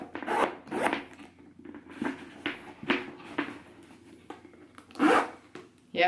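Zipper on a Dooney & Bourke Haunted Mansion satchel pulled in a series of short rasping strokes, close and fairly loud, with brief pauses between pulls.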